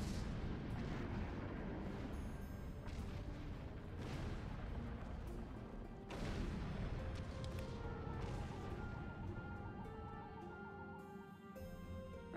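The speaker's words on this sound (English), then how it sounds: "the bombing should end quickly thanks to the Enterprise. We're gonna need to move fast once things stop exploding" Bombing explosions in Star Trek Online, as Bozeman crew members come under a bombing run: a dense barrage of booming blasts and rumbling detonations, several sharp bursts standing out against continuous heavy thunder.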